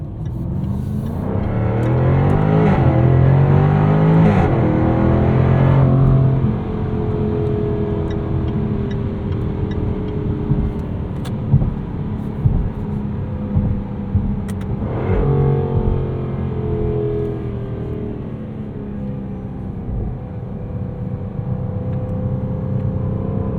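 A Jaguar F-Type R sports car engine revs hard and holds its gears under acceleration in dynamic mode, loud and close from inside, with rising and falling engine tones and a brief surge of revs near the middle.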